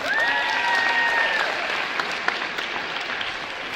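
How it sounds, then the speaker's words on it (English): An awards-ceremony audience applauds the winners with steady, full clapping that stays fairly loud throughout, a brief tonal whistle or cheer rising over it near the start. "Congratulations to the winners. Clap it up."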